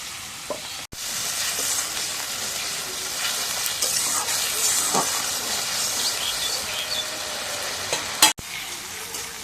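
Spices fry with turmeric and salt in a pan after ground onion paste goes in, giving a continuous loud sizzle and hiss with occasional stirring scrapes and a couple of sharp clanks.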